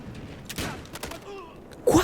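Gunfire in Battlefield Hardline multiplayer comes as a handful of sharp, close shots and bursts, with a louder blast near the end.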